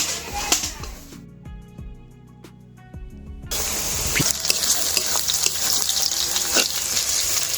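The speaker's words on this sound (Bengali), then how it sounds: "একটু ভেজে নিয়ে ওর মধ্যে দিয়ে দেবো পেঁয়াজ কুচি।" Chopped onions go into hot oil already tempered with dried red chilli and bay leaf for a chicken and masoor dal dish. A short sizzle and utensil clinks are followed by a quieter pause, then a loud, sustained crackling sizzle up close.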